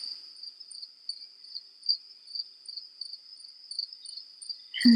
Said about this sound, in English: listen to the little crickets that you can hear, and they will help you relax